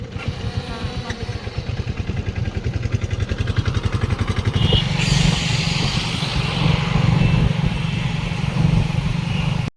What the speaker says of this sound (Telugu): ఇక మా ఆటోలు మా వాళ్ళు అయితే స్టార్ట్ అయిపోయిన్లు, ఇక వెళ్తుండ్రు